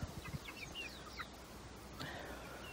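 Free-range chickens cluck softly in short scattered bursts, faint and fairly distant against a quiet outdoor background.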